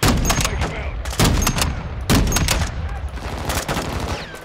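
Gunfire in the Modern Warfare 2 campaign, loud bursts of rifle and automatic fire in clustered volleys, close and dominant, with little pause between shots.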